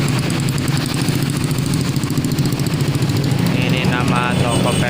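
Motorcycle engines idle and rumble steadily outside a busy shop where many motorbikes are parked, a continuous loud low drone with clattering traffic and background voices throughout.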